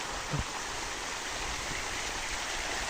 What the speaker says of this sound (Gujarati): પછી આ રીતે ફુવારા સિસ્ટમ ચાલુ કરીને હવે તો પાણી વાળવાની મજા આવીને